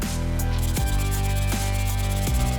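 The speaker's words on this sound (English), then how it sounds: "So I'm going to hit that with some sandpaper with the hopes to remove as much as I can." Steady, loud rasping of sandpaper rubbed back and forth over the edge of a wooden side table to strip seeped resin, continuous close scratching with a rhythmic hum underneath and brief strokes repeating about every 0.8 seconds.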